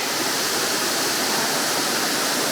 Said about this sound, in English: there's like a river right below, going all the way down to the next waterfall that leads to the swimming area